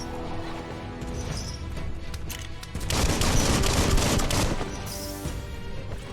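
Gunfire in the video game Biomutant: a dense fusillade of rapid shots, louder bursting in the middle stretch, with crashing impacts layered over steady background game noise.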